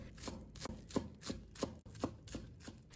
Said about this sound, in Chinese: 把葱白切成葱末